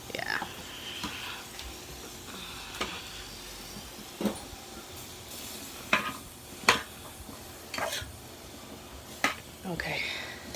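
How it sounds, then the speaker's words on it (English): Chopped onions, carrots and celery tipped into a pot with pork neckbones for lentil soup and stirred, a low sizzle beneath a series of sharp spoon clacks and scrapes against the pot at irregular intervals. "I'm gonna add all my veggies that I chopped up: the onions, the carrots, the celery."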